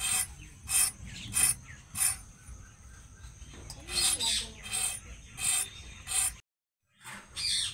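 Knife scraping the peel off a pointed gourd (potol), giving short rasping strokes in a steady repeated rhythm, close and fairly crisp, with a brief pause near the end.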